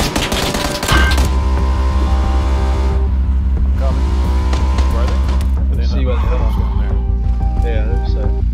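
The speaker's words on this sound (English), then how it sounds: "Enemy vehicle coming up to you." An enemy vehicle drives in PUBG with a loud, continuous engine drone and a rapid rhythmic rumble. The sound comes close with a sharp onset, then thins and shifts as it passes. Other in-game sounds and voices mix in.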